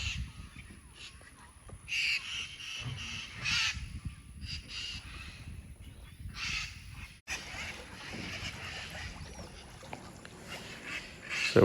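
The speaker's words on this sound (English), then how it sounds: "So we're seeing a ton of macaws here" A large flock of macaws calling at Lago do Maicá, a lake beside a Brazilian city, with harsh, raucous squawks overlapping in bursts throughout amid steady outdoor background noise.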